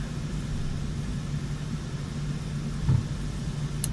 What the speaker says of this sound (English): APU's already cranked up.